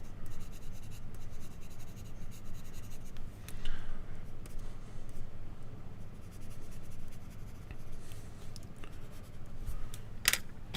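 Steady pencil shading on paper fills in the background behind drawn misty trees, a continuous close scratchy rasp of graphite strokes that runs throughout with a few sharper ticks near the end.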